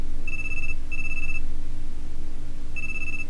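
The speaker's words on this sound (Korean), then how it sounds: "그 순간 내 핸드폰이 요란하게 울렸다." A mobile phone rings loudly with a repeating electronic ringtone, sounding in three short bursts with gaps between them over a low steady hum, close by and with no voices.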